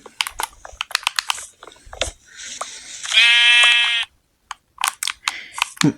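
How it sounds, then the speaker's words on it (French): Sheep bleating in the video game Minecraft, a loud sustained tonal bleat standing alone in the middle, with brief clicks and speech-like bits before and after. "les moutons, je les appelle Gérard"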